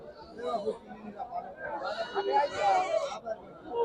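Native goats bleat repeatedly amid a busy crowd at a goat market, several animals calling over a steady hubbub of people talking nearby.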